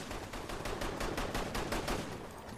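Rapid automatic gunfire from the video game Resident Evil 6, a steady stream of evenly spaced shots over a dense noisy bed, loud and continuous throughout with no talk.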